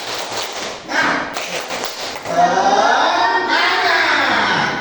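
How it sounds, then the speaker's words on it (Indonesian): A class performs the rhythmic 'tepuk semangat' clap chant, patterned group clapping and chanting voices, with claps at first and a louder stretch of voices later. "Terakhir kita sebelum pulang tepuk semangat dulu ya"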